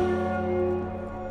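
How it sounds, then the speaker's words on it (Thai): A church bell rings in the Assassin's Creed Unity video game, a single sustained metallic toll with a bright, shimmering hum that lingers and slowly fades, heard clearly and alone. "ที่นี่คือโบสถ์ใช่ไหมมันมีเสียงระฆังด้วย"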